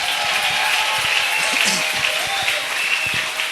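A church congregation applauds and cheers in praise of the Lord, a steady wash of clapping and crowd voices that fills the whole moment at even volume.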